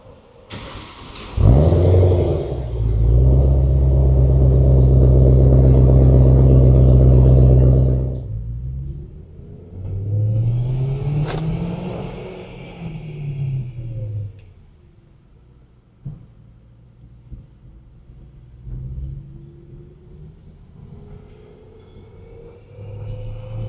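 A BMW E90 M3 rumbles at close range, holding a loud, steady drone for several seconds before dropping off, then revving up and down in a rising-and-falling sweep and settling into a quieter, fluctuating idle.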